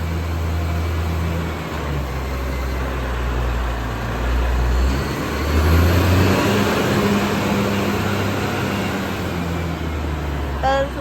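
Six-cylinder Komatsu engine of a WA380-3 wheel loader idles nearby, a steady low rumble with a brief swell in the middle and no talk.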